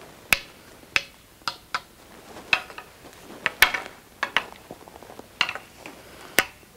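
Billiard balls on a thin cut shot give a series of crisp, sharp clicks at irregular intervals, some louder and some softer, with no talking.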